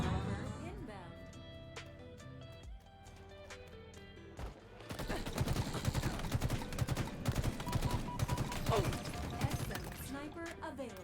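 Rapid gunfire in an arena shooter video game, dense bursts of shots over loud game music, with a player talking throughout.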